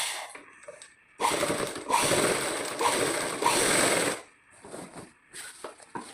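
A sewing machine stitches a lungi in two bursts of loud rapid mechanical rattling separated by quiet pauses, followed by softer clicks and handling noises.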